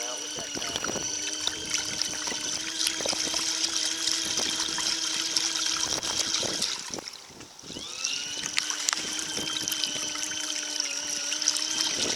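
A cheap compact camping washing machine bought on Amazon drains water out the back through a hose, a steady pumping gush with a brief dip midway, running under quiet talk.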